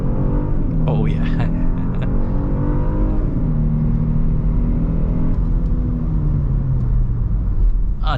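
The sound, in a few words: Genesis G80 3.5T car engine accelerating on highway, sport mode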